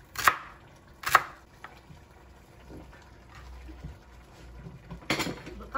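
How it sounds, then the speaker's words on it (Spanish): Chopped carrot and celery tumble into a soup pot of garbanzo soup with zucchini, giving two sharp close clatters followed by softer thuds and a later rustling splash. "Le agrego la zanahoria. el apio."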